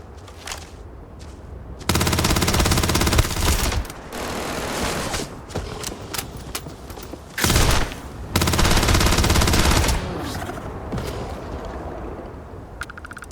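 Bursts of automatic gunfire from a video game, with full magazines emptied into an enemy in sustained loud volleys that break off briefly and resume several times.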